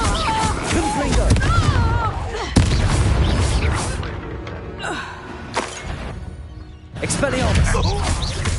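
Confringo blasting spell explosions in Hogwarts Legacy, a sharp boom followed by crackling bursts amid chaotic combat noise, with voices and creature cries mixed in.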